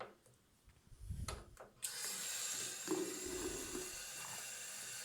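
A few quiet clunks give way to a steady stream of cold water, about 200 ml, poured into a vinegar-based eco cleaning solution. It runs close and continuous to the end, with no talk.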